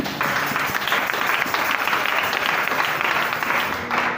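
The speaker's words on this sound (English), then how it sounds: "So please clap for me once again" An audience in a church at a youth Sunday service claps together in sustained, dense applause lasting several seconds at an even loudness before easing off slightly at the end.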